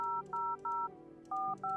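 Telephone keypad tones in a video game: five short dual-tone beeps, three in quick even succession, a pause, then two more, clear and close over a low background hum.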